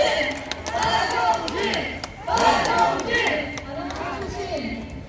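A crowd at an outdoor political campaign rally in a market cheers and shouts, with scattered clapping mixed into the rising and falling roar of voices.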